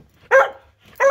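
A big dog gives two sharp, loud barks close by, spaced apart with quiet between them.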